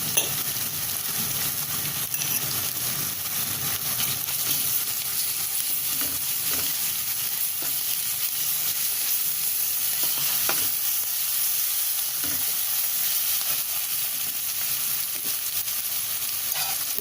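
Ginger garlic paste sizzles and fries steadily in a hot pan while making a spiced potato fry, a continuous loud crackle with occasional light stirring clinks throughout.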